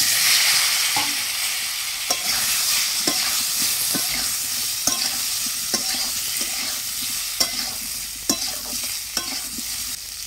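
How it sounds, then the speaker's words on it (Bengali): Potatoes fry in hot oil left from frying eggs, giving a steady, bright, hissing sizzle throughout, punctuated by irregular sharp taps and scrapes of a spatula against the pan, close by with no talking. "ওই তেলের মধ্যেই আমি আলুগুলো ভেজে নিচ্ছি"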